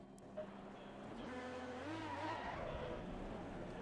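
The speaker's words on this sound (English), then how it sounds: "I love to hear the car" A race car engine in Assetto Corsa Competizione holds a steady, loud drone. Its pitch sweeps and wavers as the car shifts and accelerates on track, with faint tire noise underneath and no talk.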